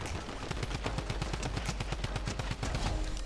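Rapid gunfire in the Fortnite video game, a dense burst of repeated shots in a steady fast rhythm running the whole stretch, loud and close with no talking over it.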